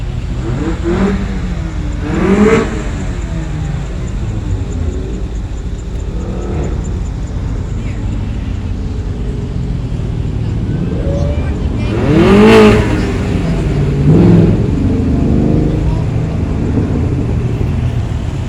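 A classic muscle car, a Ford Mustang, revs loudly nearby with a sustained engine roar that surges in two strong swells, while voices talk over it.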